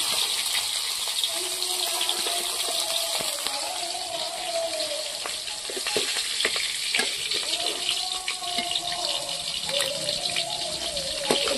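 Desi shingi fish frying in hot oil in a pan, a steady close sizzle and crackle running the whole time while a voice talks over it.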